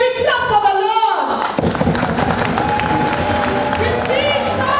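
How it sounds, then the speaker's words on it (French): Church congregation clapping along during worship, rapid massed handclaps and thumps with cheering voices and singing over them, loud and close, starting after a brief sung phrase. "Can we clap for the Lord?"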